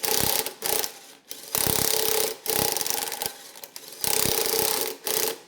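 A special service tool is threaded in and out of a Toyota V8 Tundra crankshaft to clear rust. It makes a close, dry ratcheting scrape in repeated bursts of about a second each, with short pauses between.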